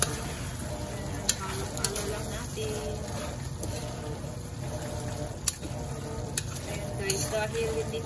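Onion fries in a pan for a pork dish, a continuous close sizzle with occasional sharp clinks of stirring against the pan.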